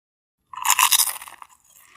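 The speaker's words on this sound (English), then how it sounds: "Y'all hear that crunch? Sound like I'm eating potato chips." A single crisp, crackly crunch of a bite into a crispy Southwestern egg roll, close up, lasting about a second before fading.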